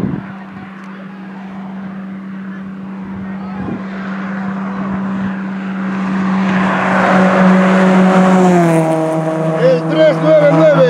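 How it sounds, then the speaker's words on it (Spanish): A white rally car in the Caminos del Inca race on the Arequipa–Lima stage approaches and passes, its engine note swelling from a distant steady drone to a loud rising whine up close, with talk over it. "ahora es un coche blanco"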